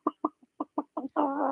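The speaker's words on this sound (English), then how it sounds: "Now we have the chicken." A chicken clucking in a series of about seven short, distinct clucks with brief gaps, ending in a longer, drawn-out squawk, close and clear with no talk.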